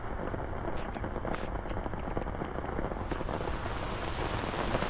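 Steady, dense rainfall hissing on surfaces, constant and fairly close, with faint scattered drips and no voices.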